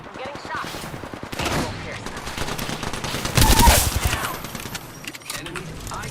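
Rapid automatic gunfire from a video game battle, sustained bursts across the clip with a louder, denser volley near the middle, set against game ambience.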